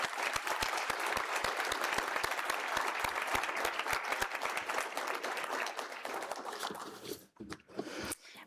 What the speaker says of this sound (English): I'd like to take a moment to ask for a round of applause for your family and friends